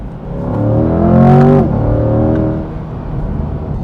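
A 2024 Chevrolet C8 Corvette Stingray 3LT with its 6.2 litre V8 revved hard, a loud close engine note climbing steeply in pitch, then dropping back to a rumbling idle.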